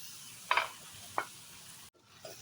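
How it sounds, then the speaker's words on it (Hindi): Boiled chana dal fries in hot oil with golden onions, a faint steady sizzle broken by a few sharp scraping stirs of a spoon in the pan. "भून लेंगे दाल को अच्छे से हम तेल के साथ।"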